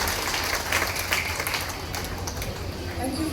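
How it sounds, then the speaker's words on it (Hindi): An audience at a district award ceremony in Jehanabad gives a dense, sustained round of applause, moderately loud and spread across a hall, with voices talking over it. "जोरदार तालियां मैम के लिए।"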